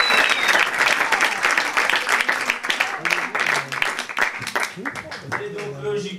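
Sustained audience applause and clapping fill a slam poetry contest in Paris after the judges' scores are read, loud and dense throughout, with a few voices and cheers mixed into the crowd noise.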